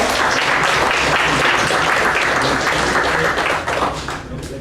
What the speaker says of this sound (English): So give a big round of applause for Devan.